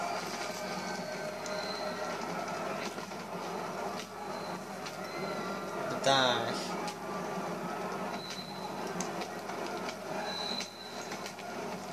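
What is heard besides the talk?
train passing in video game Battlefield 3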